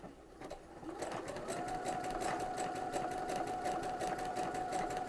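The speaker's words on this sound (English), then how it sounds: "So I'm just going to back stitch and I'm going to start sewing." A sewing machine fitted with a fringe looper foot runs a steady, fast whirring stitch at low tension, starting after a brief pause and continuing evenly and close up with no talking.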